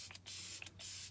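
Two quick hissing bursts of Kat Von D makeup setting spray misted from a pump bottle, close and crisp, alone in a quiet room.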